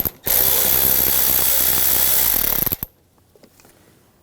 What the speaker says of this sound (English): Loosen up this worm clamp right here, use an 8mm socket.